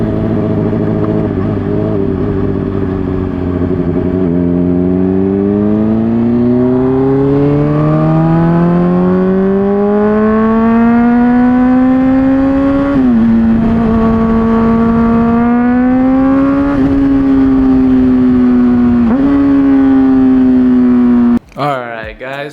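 A Honda CBR600RR motorcycle fitted with an MGP Growler exhaust, heard up close and loud as it idles and then revs in long rising sweeps, with a few quick blips partway through. The engine cuts off abruptly at the end.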